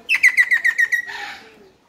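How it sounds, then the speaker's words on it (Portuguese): A black parrot at Lisbon Zoo sings a run of about seven quick, evenly spaced bright whistled notes, then ends with a harsher, buzzy trailing call; close and clear, no talking. "esse papagaio preto"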